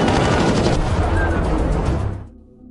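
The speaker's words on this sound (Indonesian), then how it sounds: "seorang kurir yang sudah tiba di sana langsung melepaskan tembakan" Dense, loud burst of gunfire from a film fills the clip, rapid continuous shots like automatic weapons firing together, cutting off abruptly near the end.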